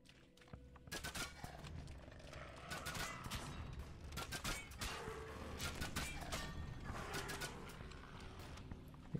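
Caustic Shot ranged attacks firing repeatedly in the video game DDO, a busy run of sharp mechanical clicks and shots mixed with scattered combat clatter, fairly faint throughout.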